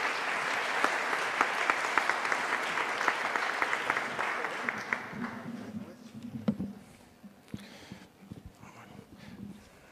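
Applause from an audience at a presidential pre-candidates' university debate greets the moderator, dense and steady clapping for about five seconds before fading into scattered claps and quiet room noise.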